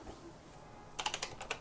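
A short burst of typing on a BBC Micro Model B keyboard, several quick close key clicks in an irregular rhythm after a quiet start.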